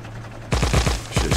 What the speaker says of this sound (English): No need to use the tank bullets, the cannon shots.